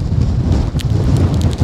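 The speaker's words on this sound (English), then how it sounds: "that's one storm hitting over that side" Storm sweeping over the Cheviot Hills in Northumberland, with heavy rain and gusting wind roaring steadily against the microphone and a low rumble underneath, alone without voices.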